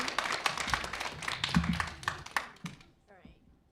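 Audience at a school board meeting applauding, a few seconds of scattered clapping that tapers off into quiet.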